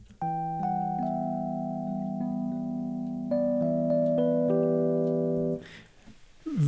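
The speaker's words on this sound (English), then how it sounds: "And the basic Phoenix sounds like this." Basic Phoenix electric piano patch from Native Instruments Electric Keys Phoenix plays a slow progression of held chords with a bright, bell-like tine attack on each change, ringing clearly and alone before a soft release.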